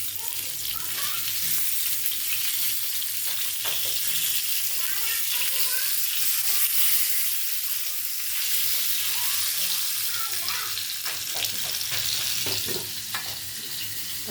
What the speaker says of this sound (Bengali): মাছ ভাজার প্রায় শেষের দিকে হয়ে গেছে বললেই চলে